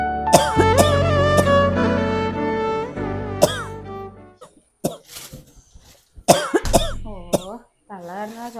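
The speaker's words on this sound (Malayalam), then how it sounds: "ചുമക്കുന്നുണ്ട്." A person coughing repeatedly, close and loud, in a series of hacking coughs mixed with voiced straining and throat sounds, with breathy pauses between bouts.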